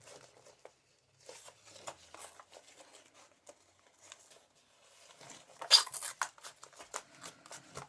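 Scissors snip through old book pages along a silhouette outline, with soft scattered clips and paper rustles and one louder crisp rip of paper partway through, close and quiet with no talk.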